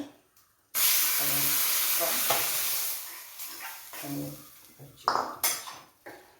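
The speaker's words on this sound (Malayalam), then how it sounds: "ഇങ്ങനെ ഇളക്കി മൂടി വയ്ക്കും." Pumpkin erissery curry stirred in a pot with onions and curry leaves, a steady sizzling hiss broken by scraping spoon strokes and clinks against the metal, with faint talk in the background.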